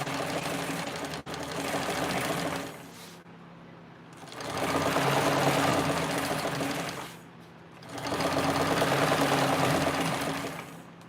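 A nearby sewing machine stitches forward and back in three loud, steady runs, each separated by a brief pause.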